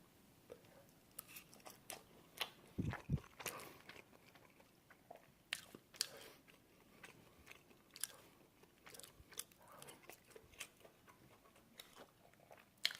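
Someone eating air-fried Traders pork hock (jokbal) up close, soft chewing and occasional crisp bites that repeat irregularly at a quiet level.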